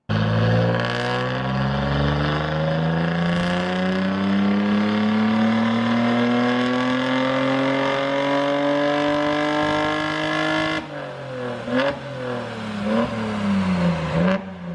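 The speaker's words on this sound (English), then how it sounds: "We even went as far as taking that car to the dyno for research purposes" A classic car on a dynamometer revs with its engine pitch climbing steadily for about ten seconds, loud and close, then drops off abruptly into a few shorter blips of throttle.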